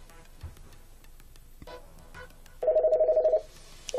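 A small office phone system desk telephone rings with an incoming call, one electronic trilling burst of rapid pulses after a few quiet clicks, near and clear, with another ring just beginning at the end.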